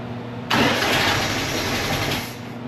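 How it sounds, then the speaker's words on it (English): A 1920 Ford Model T engine upgraded to 12 volts and running without a magneto starts abruptly after a brief quiet moment. It then settles into a loud, steady idle close by before dropping slightly at the end. "this was upgraded to 12 volts, so it sounds a little different than most Model Ts"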